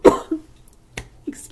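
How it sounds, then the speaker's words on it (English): A person coughs a few times in short, sharp bursts, close to the microphone, with brief pauses between the coughs and no talking. "I started coughing"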